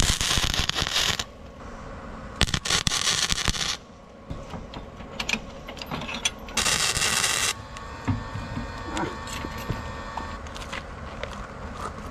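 A Vulcan flux-core wire welder, running off 120 volts, welds a trailer jack outdoors with no gas. Loud bursts of crackling arc lasting a second or so each alternate with quieter gaps of shuffling and handling.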